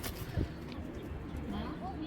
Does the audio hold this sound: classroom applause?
no